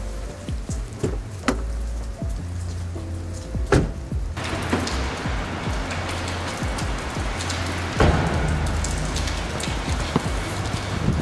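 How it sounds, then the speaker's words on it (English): Rain falls steadily outside after a day-long downpour, a constant patter of drops on surfaces with occasional sharper knocks and a brief louder burst partway through. "It's freaking raining outside. It's been raining like all day"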